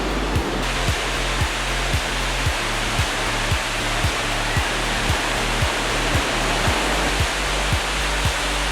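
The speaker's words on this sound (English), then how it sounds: "As you can see here, there are several classes of rapids, and this area is Class 6, the hardest and most difficult." Class 6 rapids of the Niagara River roar in a loud, steady broadband rush of white water, heard close and alone, with regular low thumps running underneath.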